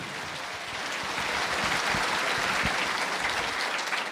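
Congregation applauding in a church service honoring Christ, a steady dense wash of many hands clapping that swells slightly and holds throughout, close and full with no talking.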